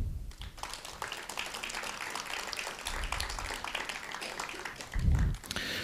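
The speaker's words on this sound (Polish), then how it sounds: "Prosimy o brawa." Audience at a Połczyn culture day event applauding in a continuous, fairly close patter of clapping, with a brief low thump near the end.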